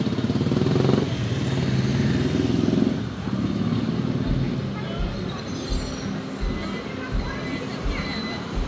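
A motorcycle rides along a mountain road toward Beni on a Mustang tour in Nepal, giving a steady loud engine and wind roar that surges near the start and keeps rumbling unevenly throughout.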